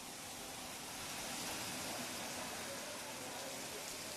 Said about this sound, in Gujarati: અશોક, જે રીતે ઘણા સમયથી વરસાદ પડી રહ્યો છે